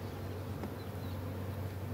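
A dense, steady buzz of many honeybees fills the clip, loud and close, with a low hum underneath and no pauses.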